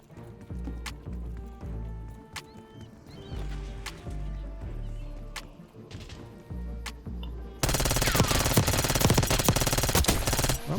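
Rapid automatic gunfire in Call of Duty Black Ops 6, with dense bursts of loud repeated shots that grow heavier and more continuous toward the end, and no talk.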